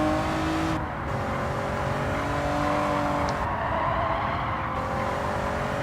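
Mid-engined Honda NSX lapping Tsukuba Circuit in Gran Turismo 7, its engine revving and droning continuously with brief dips between shifts, close and loud, alone without talk.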